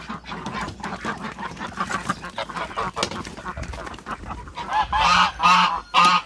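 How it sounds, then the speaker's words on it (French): Geese and ducks in their farmyard pen, loud close honking and quacking in overlapping bursts that grow into a raucous chorus of repeated goose honks near the end. "Là, on va ouvrir un parc de canards et d'oies."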